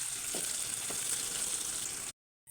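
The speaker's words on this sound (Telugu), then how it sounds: "ఇదే ఆయిల్లో ఆనియన్స్ వేసుకుందాం కొద్దిగా లైట్ బ్రౌన్ కలర్ వచ్చిన దాకా వేయించుకోవాలి" Onions sizzle in hot oil in a pan while mutton fry is being prepared, giving a steady frying hiss with a couple of soft stirring scrapes before the sound cuts to silence.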